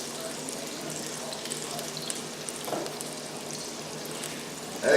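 Liver and onions frying in a pan, a steady close hiss and crackle of sizzling throughout, with a louder burst at the very end.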